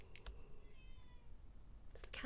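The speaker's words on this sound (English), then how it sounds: "There's a cat in the background." A cat meows faintly in the background of a quiet indoor room, a few thin high calls rising above low ambient noise with some soft rustling.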